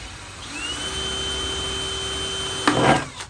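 A power drill whines at a steady pitch for a couple of seconds while drilling through plastic, then a short rough burst as the bit breaks through.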